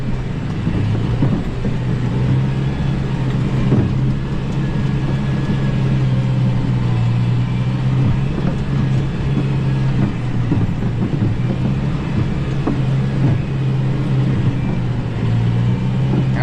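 A New Holland T6020 110 hp tractor runs in gear M2 at about 1,700 to 1,800 rpm, giving a steady, loud, low engine drone that holds evenly throughout with no voices.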